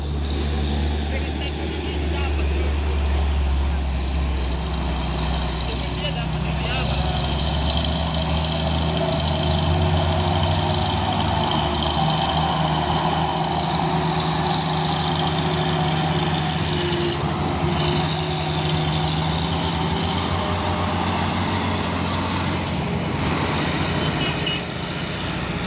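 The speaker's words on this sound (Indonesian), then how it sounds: "Dan ini truk trailer Hino 500 ini membawa kontainer." A Hino 500 trailer truck hauling a shipping container rumbles past on the road, a steady, loud low engine drone that holds throughout with little change.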